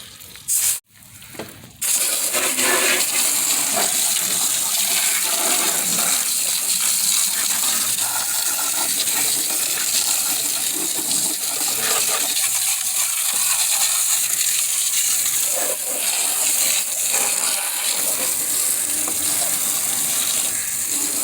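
Water from a hose rinsing a strong cleaner off a car, a loud continuous gushing spray that runs steadily after a couple of short knocks at the start, with small shifts as the stream moves.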